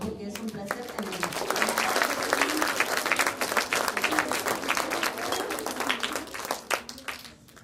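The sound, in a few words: audience applause welcoming an author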